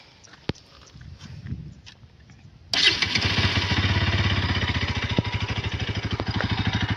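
A Bajaj Pulsar NS200 BS6 motorcycle engine cranks and fires after a few quiet seconds, then settles into a loud, close, rhythmic thumping idle.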